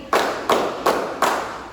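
Four sharp hand claps at an even, steady rhythm, loud and close, with nothing else in between.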